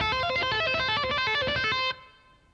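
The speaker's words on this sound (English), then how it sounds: "This next lick uses a combination of sweep picking and two-hand tapping." Fast distorted electric guitar lick from a song, mixing sweep-picked arpeggios with two-hand tapping in a rapid, even run of notes that stops abruptly and leaves a brief ringing tail, played alone.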